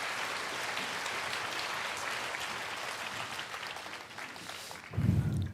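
Faint, steady applause from a congregation at a Seoul joint church worship service, a sustained wash of clapping that fades, followed by a brief low thump at the end.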